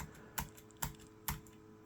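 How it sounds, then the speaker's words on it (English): Keys on a USB computer keyboard in an old Soltek PC's BIOS setup are pressed three times in a slow, even rhythm, each a crisp close click over a faint steady hum. "So the USB keyboard is working."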